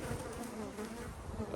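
Honey bees buzz around an open hive in a cow pasture apiary, a dense, steady droning hum with individual bees passing close by, faint and continuous.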